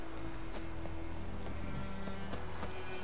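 In The Witcher 3, a horse's hooves clip-clop in an irregular trotting rhythm, faint and blended with game ambience and a low steady hum, heard under a quiet background rather than up close.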